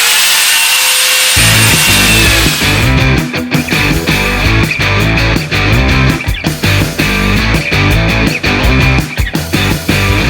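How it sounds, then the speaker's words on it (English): A power sander grinds against wooden van cabinets close up, loud and continuous, with rhythmic rasping strokes after a short start. "It's sanding time."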